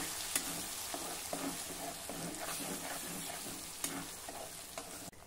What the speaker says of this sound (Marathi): आता हे वाटण आपल्याला 2 मिनिटांसाठी परतून घ्यायचं आहे।